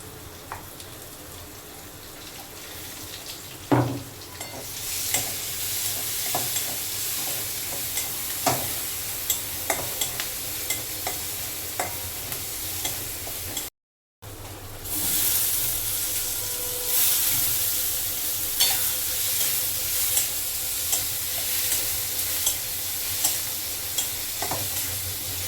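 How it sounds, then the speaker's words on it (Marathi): Green chili paste frying in oil for a country-style bottle gourd dish gives a continuous hiss and sizzle, with periodic stirring scrapes and a brief silent gap midway, no talking. "म्हणजे तेलात तळल्या जाते."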